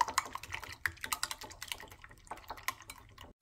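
Eggs with salt and pepper are whisked in a bowl, producing rapid, light clicking taps in an uneven rhythm, close and quiet, with no voices.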